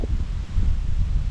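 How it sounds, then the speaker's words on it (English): Strong wind buffets and roars against the microphone in steady gusts at a remote campsite, with a low rumble throughout. "I don't know if you can tell, really fucking windy"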